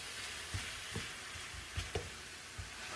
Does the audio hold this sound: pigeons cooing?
no